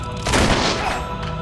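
Gunfire in the video game Fable 3 cracks out in a short, loud burst of shots, booming briefly then trailing off.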